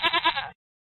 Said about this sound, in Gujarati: બકરી